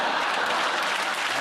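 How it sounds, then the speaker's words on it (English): A comedy panel show studio audience claps in a brief, dense round of applause at steady loudness, with no voices over it. "that round of applause goes to Tessa"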